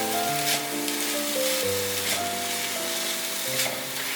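Zucchini being stir-fried in a hot pan gives a constant close sizzling hiss with light scraping of the stirring under soft background music, and no one speaks.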